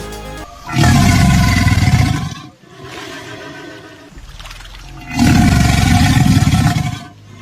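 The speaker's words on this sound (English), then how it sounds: "alligators will force air through their lungs and vibrate their vocal cords to create a sort of roaring sound." An alligator gives two deep, rumbling roars with a lower guttural growl between them, loud and close, with no talking.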